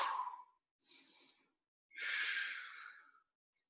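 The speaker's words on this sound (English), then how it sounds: "2 deep breaths here" A person holding a stretch during a home workout takes deep breaths, with three separate airy exhales or sighs, the last one longest and strongest, heard close up and on their own with brief silences between them.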